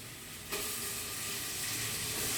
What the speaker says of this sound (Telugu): ఇది కొంచెం బాగా ఫ్రై కానివ్వాలండి